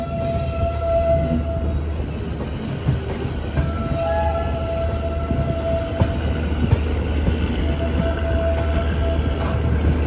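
Uttar Sampark Kranti Express hauled by a WP5 locomotive runs steadily, with a continuous rumbling roar and rail noise throughout and faint tonal squeals rising above it, heard from close by.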